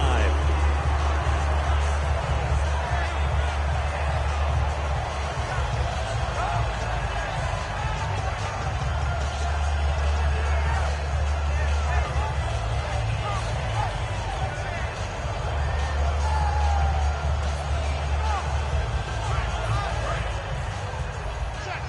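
Steady roar of a stadium crowd in a PS4 football video game, a continuous broad wash of cheering held for the whole stretch, with muffled commentary-like voice activity underneath.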